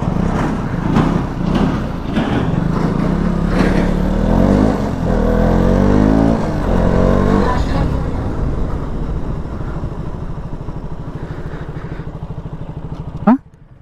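Four motorcycles, an R15, MT-15, NS200 and Duke 200, racing flat out in a drag race, loud overlapping engines climbing through the gears, then fading to a lower hum before a brief sharp noise at the end.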